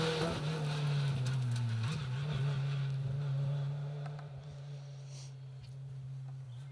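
Ford Fiesta rally car on an asphalt rally stage, engine droning at steady revs with a brief dip and recovery before fading away into the distance, tyre noise under it, no talk.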